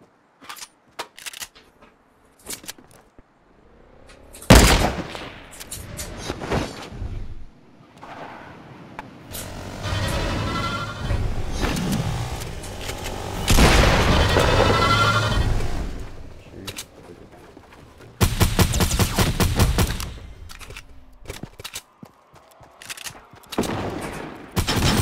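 Gunfire in Fortnite Mobile comes as scattered single shots and dense rapid bursts, with louder automatic volleys near the middle and end and quieter pauses between them, while a voice speaks faintly in places.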